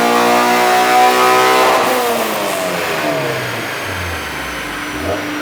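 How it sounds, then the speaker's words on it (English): A JDM Honda K24A engine with an RBC intake manifold, custom intake and PLM header revs hard on a dyno, climbing sharply as VTEC engages, then falls away as the revs drop, loud and close. "VTEC sounded pretty rowdy. You could really hear it crack."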